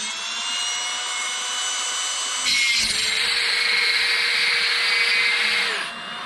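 A power drill fitted with a tungsten grinder head spins steadily for several seconds, its high whine jumping louder and higher midway before easing off near the end.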